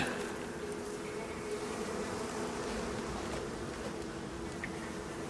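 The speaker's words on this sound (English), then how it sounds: "Right, we need to get rid of that hive." Bees buzzing around a hive in the survival game Icarus: a steady, continuous insect drone that holds at an even level for the whole stretch, with no talk over it.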